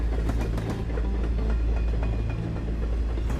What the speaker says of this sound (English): The train accelerates down the tracks and reaches 100 miles per hour.